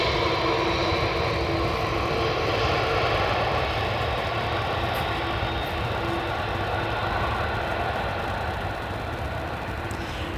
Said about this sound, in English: We have Turkish Airlines landing in from Istanbul to Amsterdam.